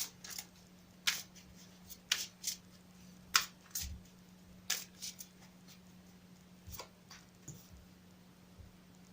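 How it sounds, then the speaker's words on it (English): A deck of cards is shuffled with a series of sharp riffles and soft taps at uneven intervals, close up and quiet, without speech. "One last shuffle."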